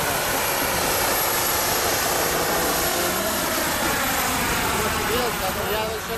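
Mi-24D Hind helicopter turbine engine running during a test flight, a loud steady whine and roar filling the whole clip, with voices talking beneath it.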